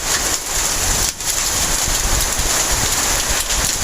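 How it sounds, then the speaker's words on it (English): Steady, dense rain with hail pattering outside during an oppressive storm in Lincoln, Nebraska; a continuous close hiss of drops hitting surfaces with a brief lull near the middle. "We got some hail outside."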